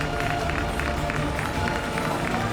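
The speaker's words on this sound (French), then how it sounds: "On peut les applaudir beaucoup plus fort." Crowd applauding two jousting knights at a medieval tournament show after a tied joust, steady dense clapping with some cheering throughout, fairly loud.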